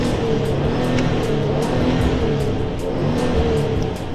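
Maserati Levante engine in normal mode, before sport is engaged, giving a steady loud rumbling drone with light road-like texture and no talk.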